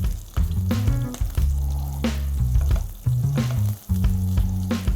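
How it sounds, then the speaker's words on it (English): Cumin seeds, green cardamom pods, a cinnamon stick and slit green chilies sizzle in hot mustard oil in a pan, a steady close-up crackle broken by stirring scrapes and clinks, with no talking. "I'm going to add cumin seeds, green cardamom pods, cinnamon stick, and slit green chilies"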